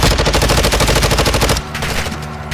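Rapid automatic gunfire from Call of Duty DMZ, a loud sustained burst of shots that runs for about a second and a half before cutting to a quieter game background.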